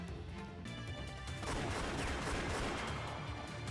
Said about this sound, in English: The sound of gunfire made the shady men all jump behind cover.